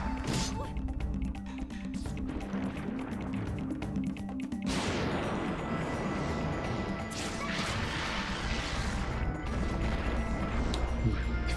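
A big explosion in the Final Fantasy Crystal Chronicles video game during a boss fight, heavy crashing impacts and booming blasts layered over steady game music, with a sharp burst midway and a continuous roar afterward.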